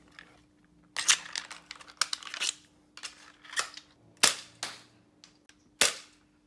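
Homemade toy flintlock blaster powered by four size 32 rubber bands, shooting short half-length darts in repeated sharp snapping shots spaced irregularly, each with a quick crack and rattle up close.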